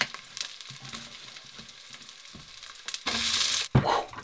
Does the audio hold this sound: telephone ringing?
no